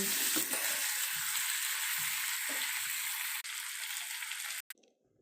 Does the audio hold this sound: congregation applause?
no